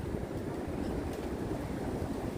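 Strong wind at the Brooklyn Bridge Park waterfront in DUMBO buffets the microphone, a constant low rumbling roar with no pauses and no talking.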